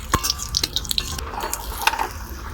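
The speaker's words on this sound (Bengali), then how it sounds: "জল দিয়ে দিচ্ছি" Water poured into a cooking pan while preparing a mock hilsa fish curry with cumin and dried chili, giving brief dripping and splashing sounds, close and fairly clear, with no talk.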